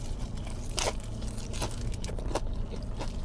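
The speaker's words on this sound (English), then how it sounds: "Let's see if it's crunchy." Three loud, crisp crunches come from biting into crunchy fried chicken up close, spaced under a second apart, with no talking.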